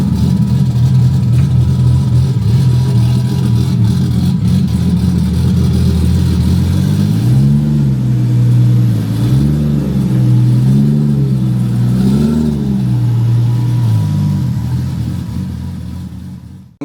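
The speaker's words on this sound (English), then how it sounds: "watching the car lift the wheels up and slingshot down the track" A loud Barra-powered Valiant drag racing car engine roars continuously, then revs rise and fall in repeated surges before fading slightly at the end.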